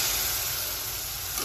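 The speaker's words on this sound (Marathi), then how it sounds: "आता तिथं थोडंसं पाणी टाकणार आहे मी" Water hits hot frying masala in a pan, giving a loud, steady broadband sizzle and hiss that holds through the whole moment.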